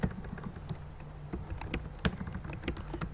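Steady, close typing on a computer keyboard, rapid individual key clicks with a few louder taps, no talking.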